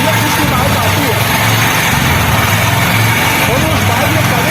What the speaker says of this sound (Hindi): अब किक से स्टार्ट करता हूँ। ये बाइक मेरी एक किक में स्टार्ट हो चुकी है।